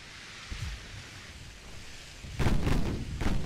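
A light cruiser's main guns fire in a naval warfare game, with a muffled thud early on followed by a louder burst of booming salvos near the end over a low background rumble.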